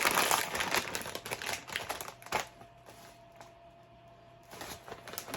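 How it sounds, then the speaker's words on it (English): Crinkly plastic rustling as a bag of Rap Snacks honey jalapeno chips is torn and pulled open close by, busy at first, then easing into a few scattered crackles. "Let's go open the bag up."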